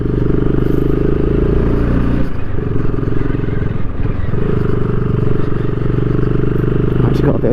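A BSA Goldstar 650 motorcycle rides on dry tarmac, its steady single-cylinder engine thrumming loud and close throughout, with a brief shift or throttle change partway through and wind and mechanical clatter underneath.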